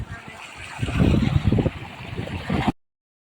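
Water gushes steadily on a farm plot, a broad rushing flow with a choppy, splashing texture that swells in the middle and stays close and fairly loud before cutting off abruptly.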